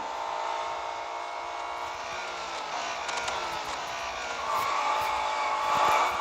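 A race car drifting in the mobile game Real Racing 3: a continuous, loud, high engine whine that swells toward the end, with a thin tire squeal coming through in the last seconds.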